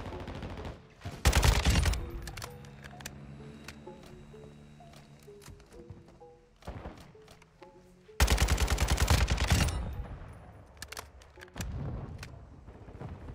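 Kastov 762 rifle fire in Modern Warfare 2 comes as loud, rapid automatic bursts, one near the start and a longer one midway, with sparse single shots, thuds and faint game music between them.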